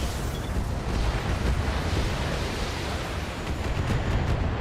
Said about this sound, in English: Missile delivery!